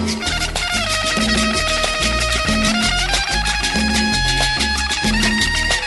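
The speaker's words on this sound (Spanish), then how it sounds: "La guitarra suena así." Guitar with band backing at a loud live sound-system performance in Acapulco, playing a steady melodic line over a repeating rhythmic bass pattern, continuous and dense with no talking.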